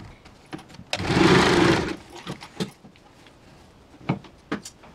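A power sewing machine stitching a half puff sleeve runs in one short, loud whirring burst, surrounded by quieter handling clicks and fabric rustles before and after.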